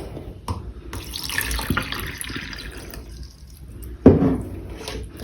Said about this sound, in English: I'm going to pour some water now in this and see if it holds well.